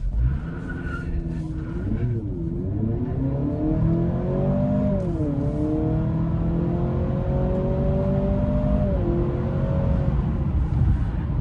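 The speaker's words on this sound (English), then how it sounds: "We're gonna put it into sport and do a 0 to 60." A 2024 Honda CR-V Hybrid in sport mode accelerates from 0 to 60, with a continuous engine drone and whir rising in pitch, dipping at shift points, and climbing again, heard from inside the cabin.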